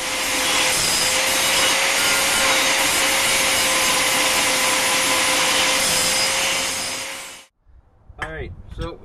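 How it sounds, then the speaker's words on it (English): An angle grinder nibbles away metal on a Jeep CJ7 during a spring-over lift build, a loud continuous whine and grind for about seven seconds before stopping, followed by someone talking briefly. "Just a couple extra minutes, nibble away at this with the grinder"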